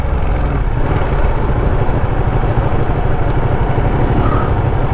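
Ducati Panigale 959 ridden along village roads, a loud, continuous engine drone with heavy wind rush and no breaks.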